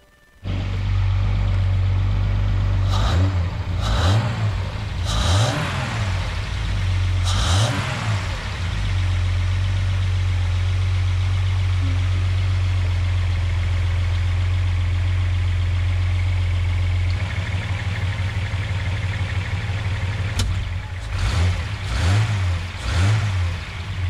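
A 1970 Datsun 240Z fitted with a cool air intake manifold idles close by, then revs in repeated sharp bursts that settle back to a steady idle, with no talk.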